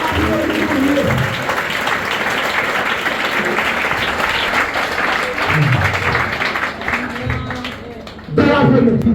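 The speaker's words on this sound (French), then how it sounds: "Applaudis mon Dieu." A church congregation applauding through a sustained, dense burst of clapping, with shouts and voices mixed in under a preacher's raised voice and a loud surge near the end.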